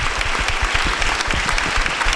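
An audience at a lecture applauds students, a dense, continuous patter of many hands clapping together at close range, sustained and fairly loud with no speech over it.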